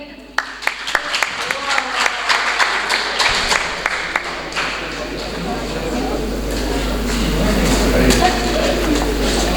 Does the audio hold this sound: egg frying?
no